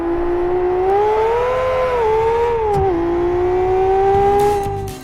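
The vintage P166 race car in Live for Speed drones steadily at high revs, its engine pitch rising and falling slightly through gear changes for several seconds, loud and close with no speech.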